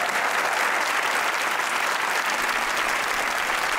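A studio audience on a Pakistani comedy talk show bursts into loud, dense applause, a thick continuous roar of clapping that stays full and even from start to finish, with no speech.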